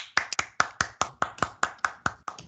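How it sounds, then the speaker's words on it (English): Rhythmic, evenly spaced claps from a small group of course participants, about a dozen crisp beats in quick succession, close and dry. "give yourselves a big round of applause."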